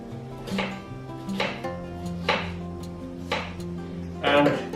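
A knife slices an onion held firm on a cutting board, giving four or five separate crisp chops at a steady rhythm, close and fairly loud, with steady music underneath.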